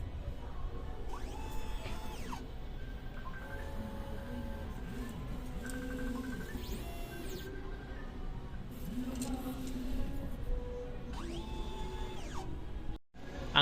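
An inkjet printer runs a nozzle test, its print head carriage whirring back and forth with rising and falling motor tones and mechanical clicks, steady and moderately close for over ten seconds.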